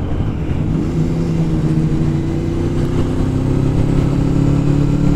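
A Yamaha R1 sport bike rides by on a road, its engine note rising, then holding steady as a loud continuous drone over the steady rumble of another motorcycle's own engine.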